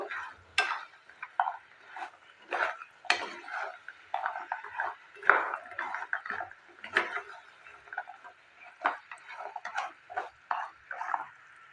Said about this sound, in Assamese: এইখিনি কেৰাহীখনত এইদৰে দেখিছেনে, ল' ফ্লেমতে মই লৰাই আছোঁ।